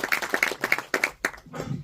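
Several people clap in a studio audience at a Q&A for the AMC series The Audacity, a quick burst of close, sharp claps in uneven rhythm that thins out and gives way to a murmur at the end.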